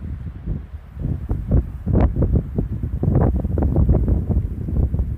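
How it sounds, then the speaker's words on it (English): Gusty wind at a high mountain lake buffets the microphone in a steady low roar with stronger surges, close and fairly loud, with no talking. "The wind. Wow."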